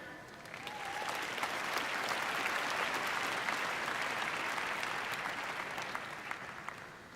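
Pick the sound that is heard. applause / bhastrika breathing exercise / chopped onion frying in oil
applause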